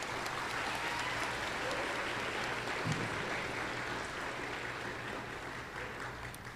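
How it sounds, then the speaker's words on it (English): An audience at an induction ceremony gives a round of applause, with even, sustained clapping from a crowd filling the room and tapering slightly toward the end. "So I think they deserve a round of applause for that too."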